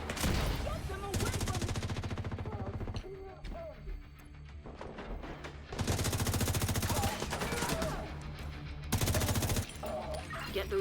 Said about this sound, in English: Now you get to watch the turrets pull people apart.